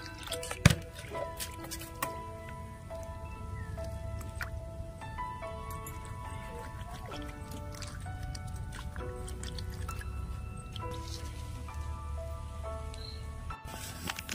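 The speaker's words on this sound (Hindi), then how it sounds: "दोस्तों ये स्नेल को थोड़ा धोएंगे," Snails are rinsed in water before going into a curry, with steady wet swishing and dripping and an occasional clack of shells, while birdsong and tonal background sound run underneath.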